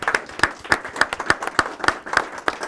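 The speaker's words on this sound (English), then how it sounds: "Let's give a big round of applause for our Cub Scouts out there." Cub Scouts in an audience being applauded with steady, rhythmic clapping that has distinct regular beats, close and moderately loud, with no talking.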